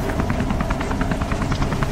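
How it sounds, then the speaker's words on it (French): Helicopter in the video game Beyond: Two Souls, a loud close rotor thumping in a fast steady rhythm with a heavy low engine roar throughout. "Viens ici, sale hélico, parce que je sais qu'on peut le posséder."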